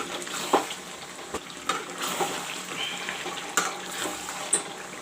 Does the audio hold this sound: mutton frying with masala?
yes